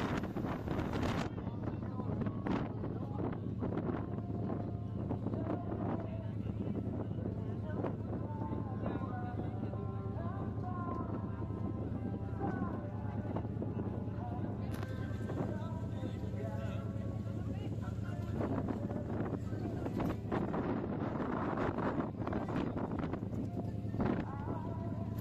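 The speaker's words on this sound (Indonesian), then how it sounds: "Saat ini kita berada di anjungan kapal." Wind gusting across the bridge of a ferry crossing from Banyuwangi to Bali, a constant low rumble of ship engine beneath with someone speaking over it.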